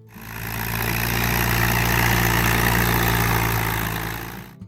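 A steady engine drone with an even low-pitched hum, loud and close, rising and holding before fading, presumably an Allis-Chalmers WD45 farm tractor running.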